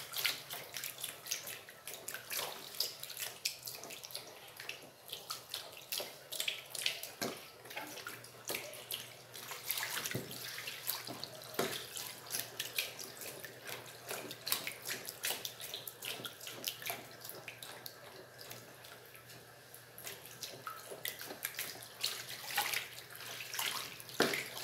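A large batch of homemade liquid soap being stirred makes a continuous wet, sloshing swish with splashy bursts and drips, steady throughout, with no speech.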